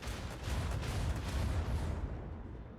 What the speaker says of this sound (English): Plasma torpedoes.